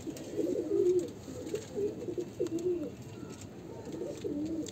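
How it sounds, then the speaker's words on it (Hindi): Pigeons kept for flying tournaments coo from a loft, several soft, low rolling calls repeating in short phrases, close by over a faint background hiss. "इसमें भी कुछ कबूतर है भाई"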